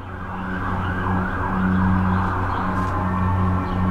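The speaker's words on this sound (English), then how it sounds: "I said there would be an airplane and a siren, and you can hear it." An emergency siren wails outside, steady and moderately distant, over a low continuous rumble of traffic. No one speaks.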